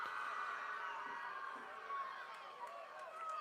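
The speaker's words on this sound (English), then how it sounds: "Crowd gets wild." A crowd at a high school football home opener cheers in a continuous loud roar of many voices, with a few higher shouts and whoops rising above it throughout.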